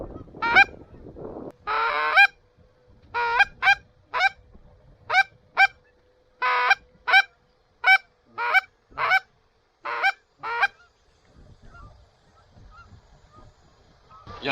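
Wild geese honk repeatedly in flight over open country in Canada, a run of loud, clear calls coming in quick bursts and then fading off toward the end.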